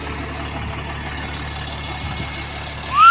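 A KamAZ 65115 truck's diesel engine idles in a steady, low, even rumble, with a rising whine entering right at the end.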